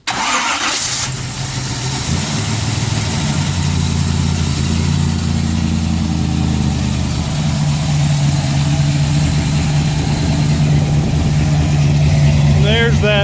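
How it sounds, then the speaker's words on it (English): A V8-swapped Volvo with new intake gaskets rumbles at idle after starting, a deep steady low drone holding loud and close throughout with a brief start burst at the beginning. "There's that Volvo Rumble."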